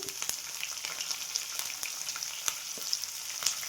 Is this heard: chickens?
no